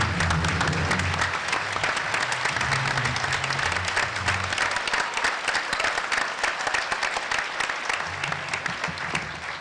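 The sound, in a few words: standing round of applause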